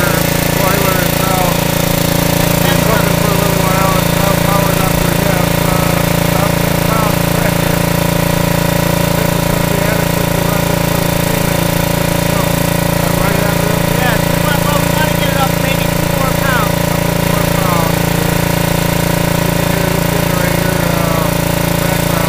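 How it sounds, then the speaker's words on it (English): A steam engine powered by an Andrews exhaust boiler runs steadily with a continuous mechanical drone and rhythmic chugging, loud and close throughout. "we'll make sure that everything comes up to pressure and that the steam engine kicks on"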